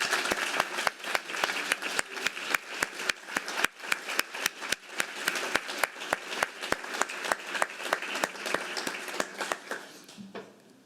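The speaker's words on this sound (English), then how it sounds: "accept a large round of applause" A dinner audience gives a sustained round of applause, many hands clapping at close range in a dense, slightly rhythmic patter for about ten seconds before it tapers off abruptly.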